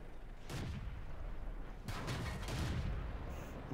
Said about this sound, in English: Just keep shooting. And that shot went in.